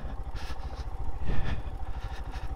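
A Royal Enfield Himalayan single-cylinder motorcycle descends a steep gravel track in first gear, its engine thumping in a steady low, close pulse with clattering over the rough ground.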